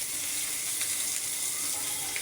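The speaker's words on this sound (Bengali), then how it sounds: "এখন আমি মাছগুলো ভেজে নিচ্ছি" Pabda fish fry in hot oil in a pan, producing a bright, even sizzling hiss that holds steady throughout with no talking.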